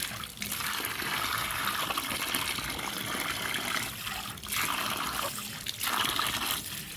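Water pours and splashes steadily while mashed African breadfruit (ukwa) is rinsed in a basket, a continuous broadband rush with a few brief lulls, close and fairly loud, with no talking.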